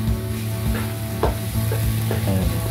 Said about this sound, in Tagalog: Masarap lang talaga pag nagigisa kayo.